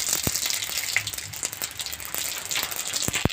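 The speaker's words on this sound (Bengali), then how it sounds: "তেলটা গরম হয়ে গেছে, এবার দেবো কালো জিরে" Nigella seeds, radhuni and dried red chillies sizzling in hot oil in a kadai, a steady crackling fry with a few sharp pops, close and fairly loud with no talk.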